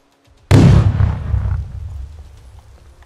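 A grenade detonates in the tactical shooter Ground Branch, a sudden loud close blast with a deep boom that rumbles and fades over about two seconds.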